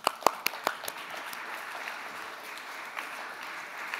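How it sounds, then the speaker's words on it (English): A few sharp claps from an audience open the sound, trailing off quickly into a faint, steady room hiss as panelists join a stage at a mobile industry conference. "ladies and gentlemen, please clap as the owners of these names join me on stage"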